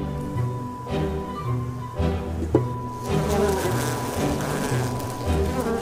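Honeybees buzzing around an open hive at a bee farm, a steady close drone with a low hum that runs through the whole stretch and swells a little toward the end.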